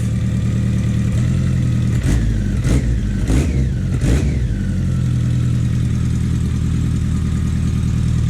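BMW K100 cafe racer motorcycle engine idling loudly up close, then blipped through several quick throttle revs that rise and fall before settling back to a steady idle.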